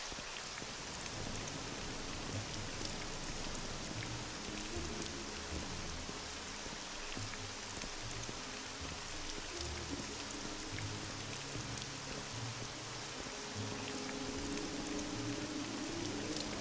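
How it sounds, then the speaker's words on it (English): Steady rain falls in The Elder Scrolls: Legacy, a constant soft hiss of drops on surfaces with a low ambient drone beneath, continuous and unbroken throughout. "And look, it's still raining."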